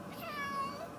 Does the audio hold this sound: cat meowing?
yes